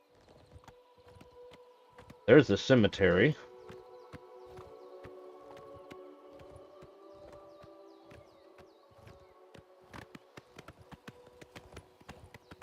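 Soft, steady hoof clip-clops from a walking horse in The Elder Scrolls IV: Oblivion Remastered under quiet ambience, interrupted early by a brief loud tonal burst and a short spoken line.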